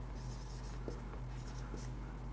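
Pen scratching on paper while writing out a maths statement by hand, a faint run of soft strokes over a steady low hum, with no talking.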